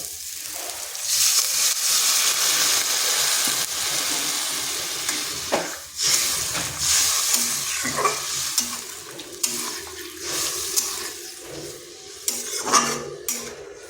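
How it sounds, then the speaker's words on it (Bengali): Water goes into a pan of vegetarian yam curry already frying in spices, with steady sizzling and hissing, clinks and scrapes of a utensil stirring against the pan, and irregular close bursts over about fourteen seconds with no talking. "এরপর এখানে দিয়ে দিচ্ছি জল।"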